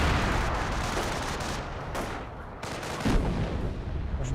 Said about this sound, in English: Got another Hummel barrage running on in.